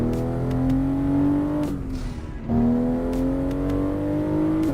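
Racing game car engine holding a steady high drone with rising pitch as it accelerates, briefly dropping off around a gear change or lift before climbing again, loud and continuous with no talk.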